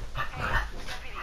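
Dogs in Far Cry 5 bark and whine in short, rough yips, fairly close and somewhat muffled, over a low rumble.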